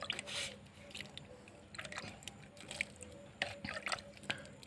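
Water poured onto plant cuttings set in a disposable cup with a drainage hole, giving soft intermittent dripping and splashing, faint and close, with no speech.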